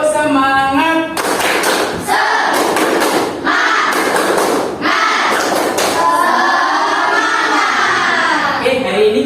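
A class of children performs a rhythmic spirit clap, chanting briefly at first and then clapping together in loud, sharp bursts of quick claps separated by short pauses, close and energetic.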